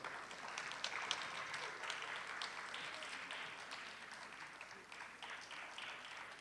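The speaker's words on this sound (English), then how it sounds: "Please give a rousing applause." An audience at an annual award event gives sustained applause, a dense wash of many hands clapping that carries faintly and steadily from start to end.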